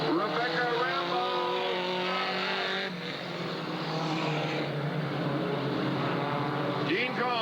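Race cars roar around Southern Oregon Speedway toward the checkered flag, engines rising and falling in pitch as they pass, with a track announcer talking over the noise.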